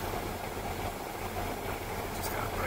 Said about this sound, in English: What we got here is this big ugly exhaust fan.